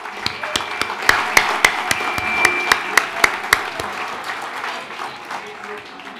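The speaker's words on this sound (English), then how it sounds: "Let's give them a round of applause." Diners at a UH Geauga Medical Center Diamond Jubilee banquet applaud the Hillbrook catering staff with sparse, distinct claps that ring out sharply for a few seconds, then thin into softer scattered clapping and room murmur.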